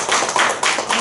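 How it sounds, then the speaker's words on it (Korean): A brief burst of audience applause, dense hand claps filling the room. "박수로 환영해 주시면 좋겠습니다."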